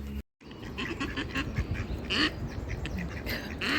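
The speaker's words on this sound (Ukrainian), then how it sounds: "Ці качки бігають е, навколо мене." Ducks quacking repeatedly and close by around the listener, one drake chasing another off, a lively cluster of calls over steady outdoor background noise in England.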